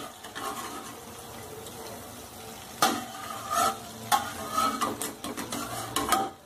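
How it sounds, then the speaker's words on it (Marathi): Besan kapnya, traditional gram-flour sweets made with jaggery, frying in hot oil, giving a steady close sizzle with scattered louder crackles and bursts of bubbling and scraping as they are turned, with no talking. "जास्त वेळ लागतो पण ह्या छान तळल्या जातात"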